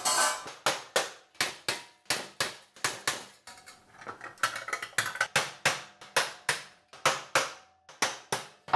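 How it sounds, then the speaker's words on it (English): Sharp metallic hammer blows knock out rivets in a steady, fast rhythm, close and loud, with a brief lighter stretch of tapping midway. "I need to hammer out the rivets to actually get it"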